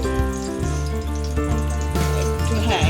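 Raw jackfruit kofta sizzles and crackles in hot oil and ghee in a kadai, a steady frying sound with a droning tonal hum running underneath.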